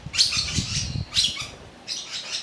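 A pet lovebird chirps and flaps its wings in short bursts at close range, three bouts of fluttering separated by brief pauses, with no talking.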